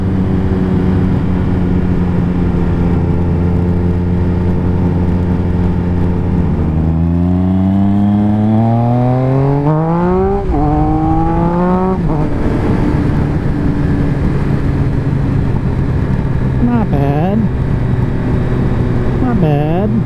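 A motorcycle engine revs hard while the rider pulls wheelies in second gear, the pitch climbing in rising sweeps and dropping back, loud and close against steady wind roar.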